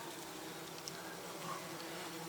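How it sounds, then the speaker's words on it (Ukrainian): Wasps attacking a bee hive, a faint, steady insect buzz from many bees and wasps droning continuously close by, with no voices. "Оси вбивають бджіл, бджоли вбивають ос."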